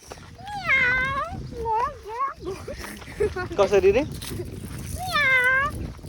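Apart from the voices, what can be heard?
cat meowing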